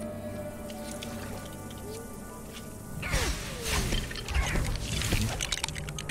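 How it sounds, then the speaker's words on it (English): Rain from a magic rain cloud in Lego Harry Potter: Years 1–4 begins partway through as a steady, fairly loud patter and splash of drops over a quiet background hum. "Makes a rain cloud."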